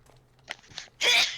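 A single close, sharp sneeze bursts out after a couple of faint breathy intakes, loud and brief against a quiet room.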